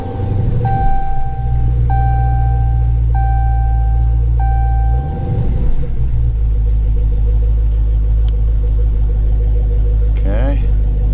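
A car engine with a blank-screen uConnect fault cranks with a repeating whirring rhythm on a second start attempt, then settles into a steady low rumble close by, with a faint voice underneath.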